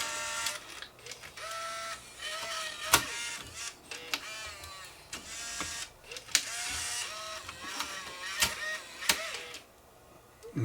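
A Bose 3 CD changer's internal mechanism whirs and clicks as it ejects a disc, faint motor buzzes broken by sharp mechanical clunks at irregular intervals, close and quiet.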